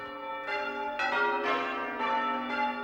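Church bells ring changes in a steady, evenly spaced sequence, each bright metallic strike overlapping the ringing of the last, loud and reverberant with no voices.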